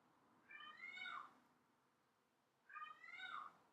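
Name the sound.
cat yelling loudly in the background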